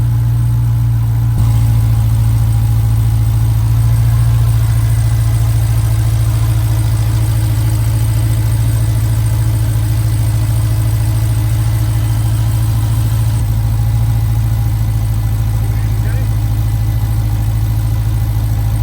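Pickup truck engine idling after a catch can install, a loud steady low rumble that runs evenly throughout with no revving and no talk.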